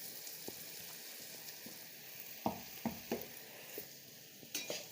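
Leftover chapati pieces are stirred into a spiced mixture frying in a pan, with a steady low sizzle and a series of scraping, tapping strokes from the spatula against the pan.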